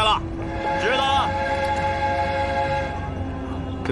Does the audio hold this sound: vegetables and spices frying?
no